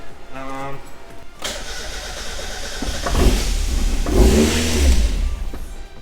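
A Mazda Miata engine cranks over, a loud rough churning that swells in two surges before dying back.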